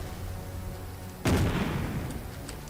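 A single heavy cannon shot booms in a 1944 Battle of the Bulge strategy game, fought over a bridge in the Ardennes. Steady low background hum comes first, then the loud blast rolls out into a long decaying rumble.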